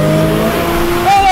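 A 900-horsepower big-turbo Mazda RX-7 FD engine revs loudly up close, its pitch shifting over a brief burst, with a voice partly audible over it.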